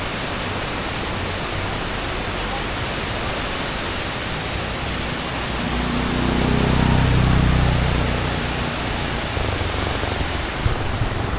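Steady, loud broadband rush of a waterfall near the Lipton Seat tea plantations in Ella, a continuous roar that swells briefly in the middle and runs unbroken throughout with no voices.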